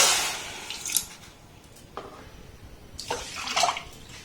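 Water poured into a pan for sugar syrup in a home kitchen, a quiet watery splash in a few short bursts with low trickling between, no voices.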